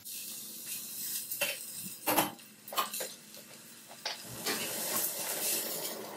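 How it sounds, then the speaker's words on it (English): Oxtail sears in a very hot pan, giving a steady hiss and sizzle that swells and fades, with a few sharp clinks and scrapes of a utensil against the pan. "We just want a nice sear to caramelise all the edges."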